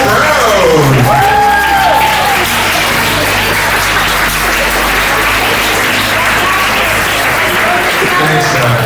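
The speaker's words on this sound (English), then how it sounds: "give a thunderous round of applause and standing ovation for Shawn Frederico" A large school-assembly crowd gives a thunderous standing ovation for a keynote speaker: dense, loud, sustained clapping mixed with cheers and whoops, with a voice briefly calling out near the start.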